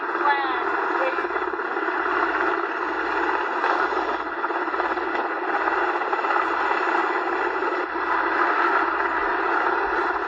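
A helicopter sets down on top of a building in a crowded city during urban combat, a loud, close, steady roar with a rhythmic low rotor thump pulsing throughout.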